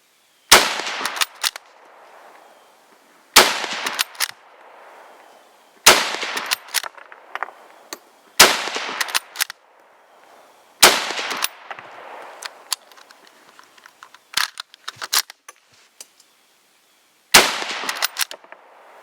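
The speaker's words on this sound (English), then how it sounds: "here's the results of firing 10 shots out of the Israeli" Ten shots from an Israeli Mauser rifle ring out one at a time, each a sharp, loud crack followed by a brief echoing tail, spaced a few seconds apart with quiet gaps between.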